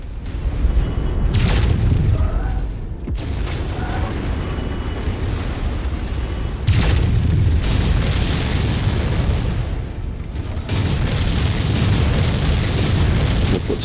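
Missile explosions from MechWarrior 5 battle gameplay, a dense rumbling barrage of booms and bursts rolling continuously with brief lulls, loud and close throughout, with faint talk beneath.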